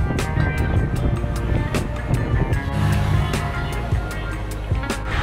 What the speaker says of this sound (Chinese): 坐这辆车很爽啊，还可以一面这样吹风，一面看风景。